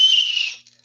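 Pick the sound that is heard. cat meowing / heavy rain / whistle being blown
whistle being blown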